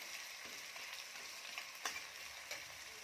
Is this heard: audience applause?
no